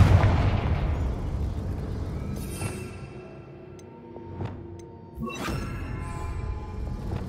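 A Confringo fire-spell explosion in the video game Hogwarts Legacy starts as a loud rumbling blast that slowly fades, followed by sharper cracks and a second burst of noise, with a dramatic game score underneath.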